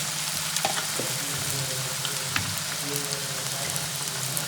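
Paneer corn samosas deep frying in hot oil, a steady close sizzle with soft bubbling crackles and occasional pops, continuous and fairly loud with no talking.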